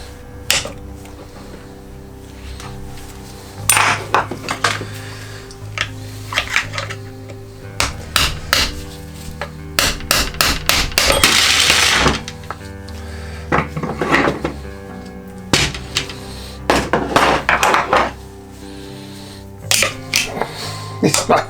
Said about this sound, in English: I'll give them a bit of a tap, and I'm sure I'll get them loosened up and take them out a few at a time.